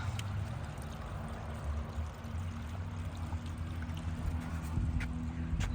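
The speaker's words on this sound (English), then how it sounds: "Got a little water running." Water trickles steadily in a small stream along a lakeside state park trail, a continuous close, soft running-water rush with no talk over it.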